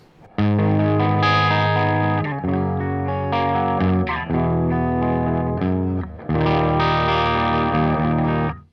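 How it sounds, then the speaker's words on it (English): Cort M600 electric guitar with Seymour Duncan pickups played through a Triangle Big Muff fuzz pedal, thick sustained fuzzy chords and notes ringing loud and close, with a few brief breaks between phrases. "Now I'm using my Cort M600 with Seymour Duncan pickups."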